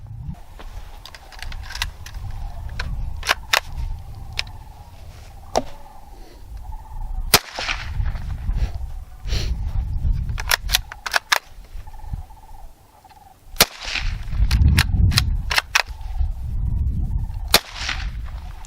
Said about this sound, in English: we're going to try 22 long rifle hollow points out of a 20-inch barrel